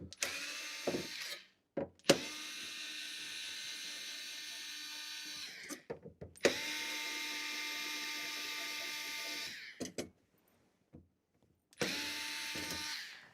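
An electric screwdriver whirring in long steady bursts while a screw is backed out during an electronics repair, close and fairly quiet, stopping and restarting with short clicks and gaps between runs.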